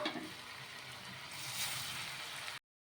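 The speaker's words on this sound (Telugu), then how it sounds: "ఇలా ఇంకా అన్నీ కూడా ఇదే విధంగా వేసేసుకొని ఫ్రై చేసేసుకోవడమే నూనెలో" Leftover-bread murukulu deep frying in hot oil, a continuous fizzing sizzle that holds steady at moderate level, swells slightly midway, then cuts off abruptly.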